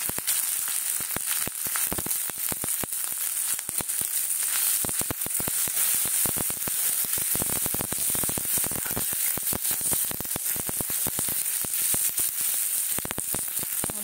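Ginger and onion sizzle steadily in hot mustard oil, a dense, continuous crackling fry with rapid popping spatters, close and loud throughout with no voices.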